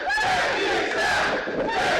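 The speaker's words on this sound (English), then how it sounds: "Crowd showing their love for the Pitbull King today" A wrestling crowd at an SSW show roars and cheers for the Pitbull King, a dense, continuous wall of shouting voices that stays loud throughout.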